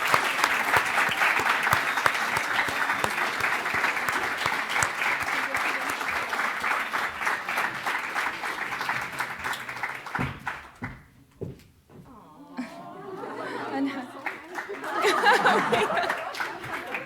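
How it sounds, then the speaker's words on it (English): An audience at a competition final event applauds with steady, dense clapping for about ten seconds before it dies away, followed by a short pause and then people talking and light laughter. "a round of applause is in order."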